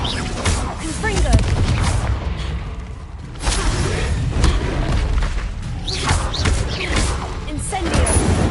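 Fiery Confringo spell blasts in the Hogwarts Legacy video game, several booming whooshes and thuds layered under a busy combat soundscape, loud and close.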